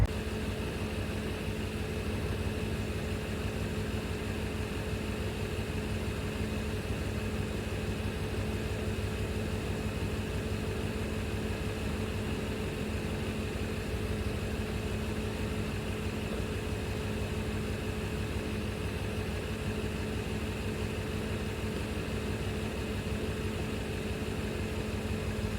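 A Mercedes-AMG SL 63 4Matic+ soft-top with a 3982 cc biturbo twin-scroll V8 sits idling, an unbroken low, steady drone with a constant hum and no one speaking.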